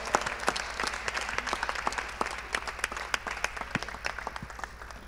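Audience applause at a festival feedback café podcast, a dense patter of many hands clapping steadily for about five seconds, moderately close, with no talking over it.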